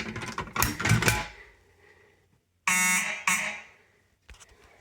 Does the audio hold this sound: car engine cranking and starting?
no